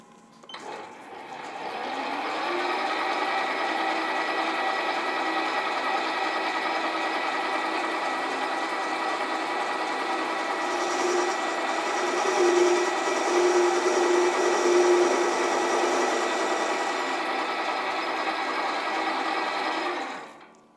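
A metal lathe turns a bar for a between-centres boring bar, spinning up to a steady whirring hum with a faint high whine that holds evenly for about eighteen seconds before cutting off.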